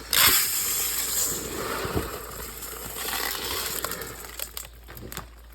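Dry jasmine rice is poured into a rice cooker bowl, giving a soft, granular hiss and rattle in uneven bursts, faint and close, with a few light clicks toward the end.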